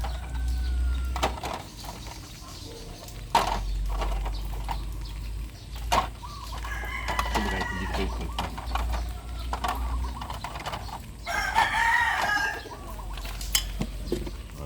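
Backyard chickens clucking with a rooster crowing, heard during a rainy day at feeding time; several close calls stand out over a low rumble and occasional clatter, with no speech.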